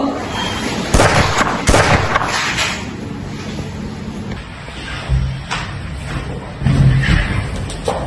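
Gunfire in a short film staged around a general's arrest: two sharp loud bangs near the start, followed by a few scattered thuds and clatters over a noisy background.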